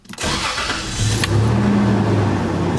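A Toyota Tacoma with a check engine light problem cranks briefly and fires up, then settles into a steady, close idle with a low, even engine hum.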